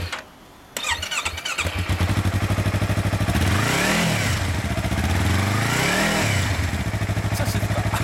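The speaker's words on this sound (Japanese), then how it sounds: "車種は YZF の R25 です。 はい、R25。 ちょっとエンジンかけてもらっていいですか。" A Yamaha YZF-R25 motorcycle engine cranks and catches after a short quiet moment, then settles into a loud, close idle with a steady pulsing throb and two rising-and-falling revs.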